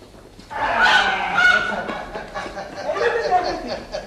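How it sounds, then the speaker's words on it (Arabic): A rooster in a children's TV show calls out loudly, with a long, harsh, honking crow and a second call, and voices are mixed in around it. "إنها ليست دجاجة، ها؟ إنه ديك."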